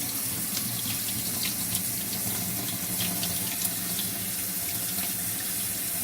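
Tap water runs steadily into a sink while sea moss is washed by hand, a close, continuous splashing hiss with small bursts of movement and no talking.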